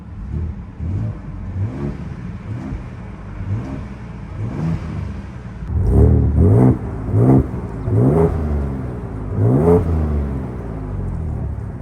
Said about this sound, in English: We'll go into normal now, give it a couple revs here.